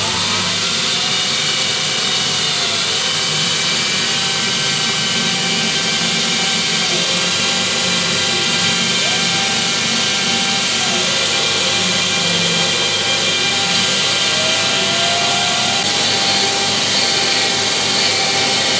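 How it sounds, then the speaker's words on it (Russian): A homemade belt grinder with a long, tightly tensioned belt runs continuously, a loud steady motor whine and belt roar with slight pitch swells as it spins up and holds speed, no voices. "Гриндер собран, сейчас давайте запустим его."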